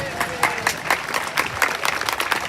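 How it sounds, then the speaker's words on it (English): Live audience at a pun competition show applauding, brisk irregular clapping from a crowd with some voices mixed in, fairly close and loud. "So give yourselves a round of applause."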